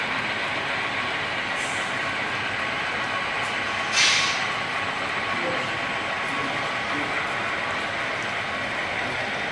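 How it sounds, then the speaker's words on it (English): A model freight train on an N and HO scale layout rolls along steadily with a soft mechanical hum and faint clicking, heard from close by with no one talking. "AC-70 pulling a freight carriages heading towards the far end of the layout"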